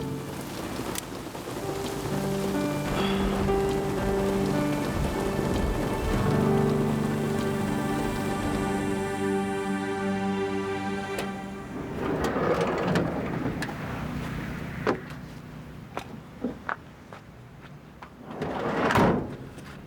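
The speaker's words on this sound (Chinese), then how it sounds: "现在已经很晚了，又在下雨" Steady rain pours down at night, a dense continuous patter with distant thunder rumbling, under a sustained musical tone early on and scattered louder drips and knocks later.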